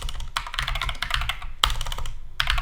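Computer keyboard typing a command, a close run of quick clicky keystrokes in short bursts with brief pauses between them.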